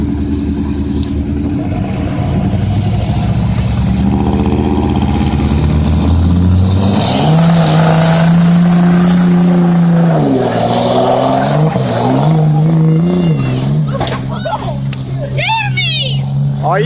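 Engines roar loudly in a street drag race between a Cummins diesel truck and a Chevy, revs climbing and holding, with shouting voices over the noise toward the end.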